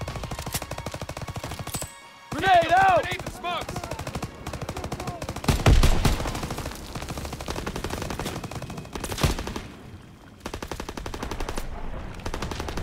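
Sustained machine-gun fire and scattered gunshots in a Call of Duty WWII battle, continuous bursts at steady loudness with a few louder surges, no voices.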